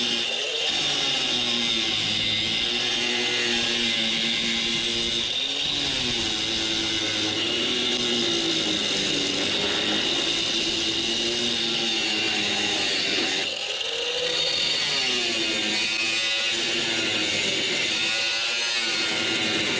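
Power tool cutting and trimming metal on a 1970 Datsun 521 truck frame, a loud continuous high whine that shifts in pitch as it bites, with no talking.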